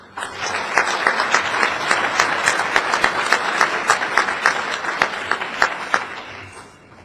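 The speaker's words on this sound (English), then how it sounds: "We give one last applause for all these coaches." An audience at a high school baseball hall of fame induction ceremony applauds the coaches, a loud, sustained wave of many hands clapping that swells and then fades.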